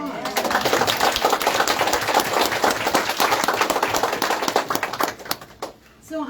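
Applause from a small group at a ribbon-cutting event, a busy patter of clapping with voices mixed in, fading out toward the end.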